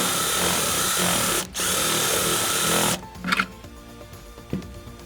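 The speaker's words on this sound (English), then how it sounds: "You might need to take your drill and go back and just make your hole slightly larger." A power drill enlarging a hole whines steadily at high speed, dips once briefly, then stops, leaving a few faint clicks and knocks.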